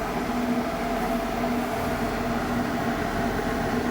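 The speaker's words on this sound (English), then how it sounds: "I can hear the compressor. It's actually vibrating in the house a little bit." Off-grid 12/24V air conditioner compressor running indoors, a steady low hum with broadband rushing noise, continuous and unchanging, with no voices.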